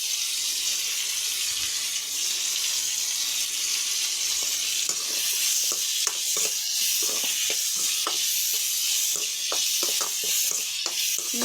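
Carrot pieces added to tomatoes cooking in a pan for sambar, a steady soft sizzle with scattered light clicks and scrapes, moderately faint and continuous, no voices.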